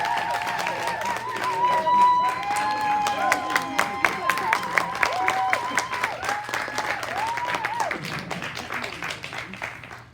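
An audience at a youth media summit applauds to welcome filmmaker Jennifer Siebel-Newsom, a steady wash of clapping with scattered sharp claps running throughout, with a voice speaking over it.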